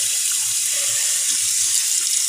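An unusual water faucet runs in a steady, close, hissing stream for a couple of seconds, with faint clinks underneath.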